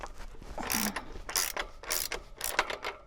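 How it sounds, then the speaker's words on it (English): A ratchet clicks quickly and sharply as it loosens the 27mm axle nut on a Surron Ultra electric bike. The bursts come close and repeat. "So loosen off the 27mm nut"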